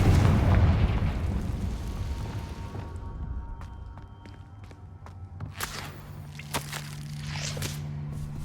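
A Confringo spell blast in Hogwarts Legacy opens with a loud, rumbling explosion that slowly fades into a lower, steady hum, with scattered small pops and clicks afterward.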